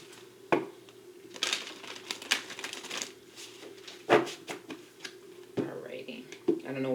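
Cards are shuffled in several bursts of riffling and tapping, close by, with soft whispering and breathy sounds between them.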